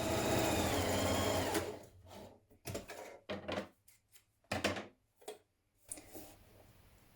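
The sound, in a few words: sewing machine stitching a seam with stretch stitch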